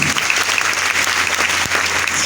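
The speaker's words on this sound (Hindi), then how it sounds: "एक बार जबरदस्त ताली होना चाहिए, जबरदस्त।" Loud, sustained applause from a seated audience at a gathering in Gorakhpur, a thick continuous patter of many hands clapping at once that stays strong and even from start to finish.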